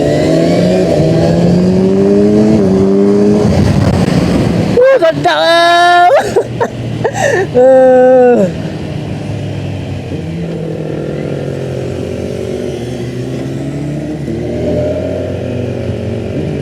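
A Kawasaki Ninja 1100SX SE sport motorcycle engine revs sharply in a couple of quick bursts, rising and falling in pitch, with someone talking over the steady idle before and after.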